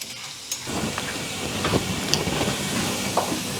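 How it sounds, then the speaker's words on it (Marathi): Chana dal fries in hot oil for Pune-style Laxmi Narayan chivda, a loud continuous sizzling hiss with small crackles scattered through it, close and unbroken. "ही डाळ किंवा फुटाण्याची डाळ अगदी मस्त तळी गेली आहे"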